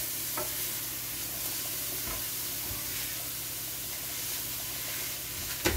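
Hot peppers frying in a pan for rice soup give a steady, continuous sizzle and hiss at moderate level, with faint stirring scrapes and a small clatter at the very end.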